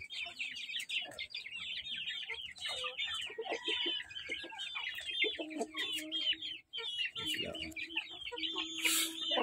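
Chicks of an IG Dumpo Shamo chicken peep and chirp rapidly in a backyard, with occasional clucks from an adult fowl.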